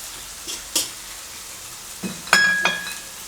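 Pumpkin and pork stir-fried in a pan, a quiet sizzle under a few sharp scrapes and clinks of a utensil against the pan, with a ringing metallic knock near the end.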